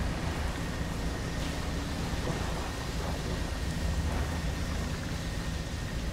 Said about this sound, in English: So always a storm, it seems.